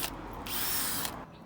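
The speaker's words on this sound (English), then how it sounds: "First hole we're drilling into the van here." A power drill bores a hole into the body of a campervan, one steady, loud whine lasting about half a second and then stopping.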